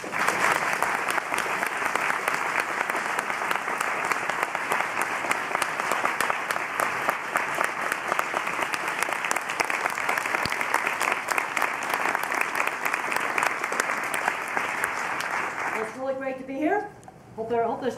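A large audience gives sustained applause welcoming a speaker, dense, loud clapping that runs steadily for about sixteen seconds before tapering off, after which a voice speaks briefly.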